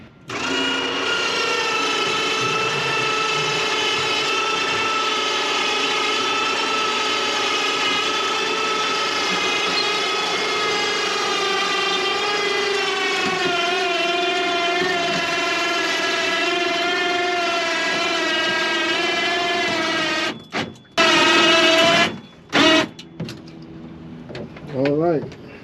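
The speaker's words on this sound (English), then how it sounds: "Got this winch down in here." An electric winch on dinghy davits runs with a steady high whine and strong harmonic tone for about twenty seconds, then cuts in and out in short bursts near the end.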